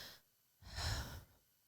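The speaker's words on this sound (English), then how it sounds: "Take a deep breath." A slow, deep inhalation and exhalation, close and soft, swelling for about half a second and then fading, with no talking.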